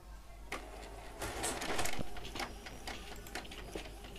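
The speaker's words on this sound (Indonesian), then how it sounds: "oke kita print aja seperti ini ya" A label printer runs through order shipping labels, a steady mechanical whirring with short feed bursts and clicks, fairly quiet and without talk.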